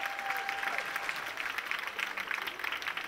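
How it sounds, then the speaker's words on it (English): Audience applause at a charity auction gala, with steady clapping from the crowd filling the whole moment at moderate loudness and no clear talk over it. "Big round of applause, ladies and gentlemen"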